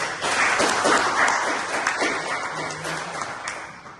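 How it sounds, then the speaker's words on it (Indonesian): Students in a classroom clap together in a dense burst of applause that starts strongly and slowly fades, with a faint voice briefly under it. "Dulu berikan tepuk tangan."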